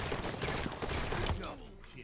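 Gunfire in the multiplayer shooter Halo 5, a rapid burst of shots at a moderate level that cuts off abruptly, leaving quieter background sound.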